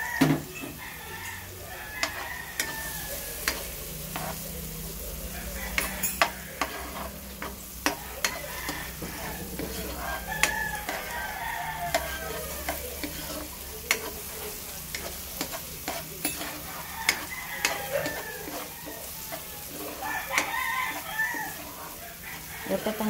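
Onions frying in olive oil while being stirred for spaghetti, a low steady sizzle with scraping utensil taps, and a rooster crowing several times in the background.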